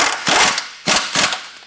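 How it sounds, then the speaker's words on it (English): A ratchet clicks in short close bursts while tightening an outer tie rod on a motorhome's steering, two rapid runs of clicks with a pause between. "Now we're going to tighten up this outer tie rod in."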